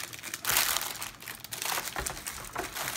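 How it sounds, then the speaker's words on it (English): Crinkly plastic toy packaging being pulled open close by, loud rustling and crackling in uneven bursts with brief lulls over three seconds, no voices. "No, you have to open the packaging."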